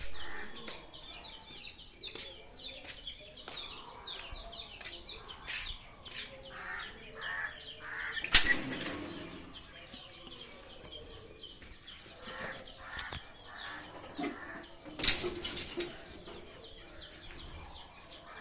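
Lovebirds kept on a small home farm chirp in steady, rapid overlapping calls, with a couple of louder bursts that could be wings flapping, all fairly close with no talk.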